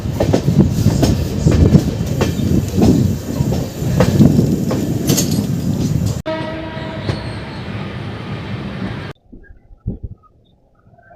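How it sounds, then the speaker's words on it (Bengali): The Amrit Bharat Express (16598, Alipurduar–Bengaluru) running on the main line at up to 130 km/h: a loud, close rumble with rhythmic wheel clatter over the rails, then an abrupt drop to a quieter hum and near silence. "এইখান থেকে হয়ে গেল আমাদের ট্রেন মেন লাইনে।"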